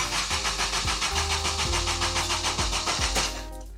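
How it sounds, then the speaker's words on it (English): A supercharged Honda Civic Type R engine cranking over on a new starter motor, a loud, steady, rhythmic churning of even pulses that cuts out near the end without catching. "It's cranking over."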